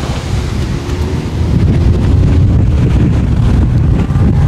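Cold ground-level wind beneath a supercell thunderstorm near Wrocław, Poland: loud, steady roaring gusts buffet the microphone with heavy low rumble throughout and no talking.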